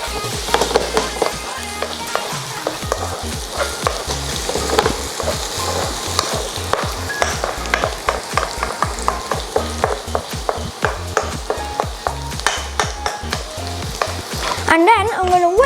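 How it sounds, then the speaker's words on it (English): Onions, garlic and chili sauté in a pan for a vegan tomato soup, a steady close sizzle broken by frequent rhythmic stirring scrapes and taps, loud and continuous without any talking. "going to saute down my onions, garlic and chili. I'm going to saute this down."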